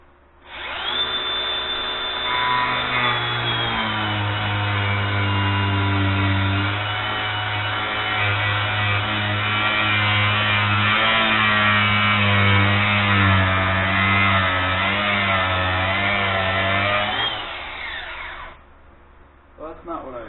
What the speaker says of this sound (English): I'm using a little bit bigger of a grinding wheel than what I wanted